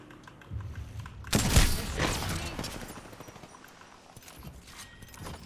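Enemy gunfire in Apex Legends, a burst of rapid shots with a sharp loud blast near the middle, then a dense rattling crackle that fades over several seconds amid game noise.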